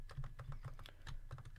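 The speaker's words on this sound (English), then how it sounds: "you can probably hear my mouse clicking and my keyboard tapping" Rapid keyboard typing with occasional mouse clicks from a computer setup during a Minecraft Hypixel Build Battle session, close and clear in irregular quick bursts with no talk.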